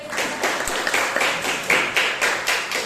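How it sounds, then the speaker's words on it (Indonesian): Classroom clapping for a student, a short rhythmic burst of claps from a small group of pupils, fairly close and loud, pulsing in regular beats without talk. "tepuk tangan untuk Nurul"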